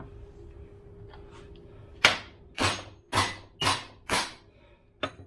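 Heavy hammer blows strike the prop shaft yoke of a Mitsubishi L200, six sharp metallic impacts landing about half a second apart, loud and close, each ringing briefly before the next.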